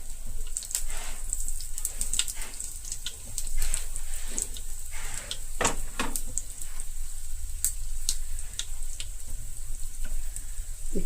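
Tempering (talimpu) for thin Telugu dal frying in a pan: a steady, close oil sizzle with frequent sharp pops and crackles throughout.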